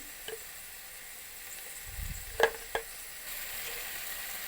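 Ginger and green chilli frying in a pan, a soft, quiet sizzle with a couple of brief sharp clinks near the middle, and no one speaking.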